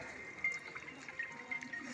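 Floodwater rushes through a residential street during severe flooding in Khammam district, a steady, close hiss of flowing water with small splashy surges.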